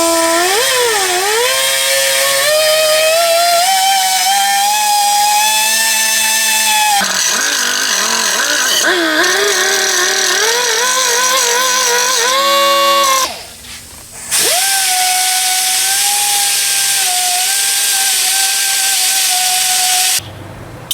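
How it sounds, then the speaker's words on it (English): Angle grinder working a brass fitting on a Ford 302 coolant job in a Fox Body Mustang, a loud whining tone that rises and falls as pressure shifts, cutting out briefly before spinning up again. "So let me get my grinder going."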